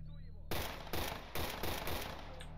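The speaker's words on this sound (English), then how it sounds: "That guy's got a fast shooting gun." An enemy's fast-firing gun in STALKER Anomaly lets off rapid automatic gunfire: about five punchy bursts in quick, regular succession, fairly close and dominating a low background hum.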